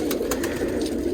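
Many pigeons cooing together in a large backyard loft housing around 400 birds, a steady, continuous low murmur of overlapping coos close by with no talking.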